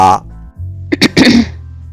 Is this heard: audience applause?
no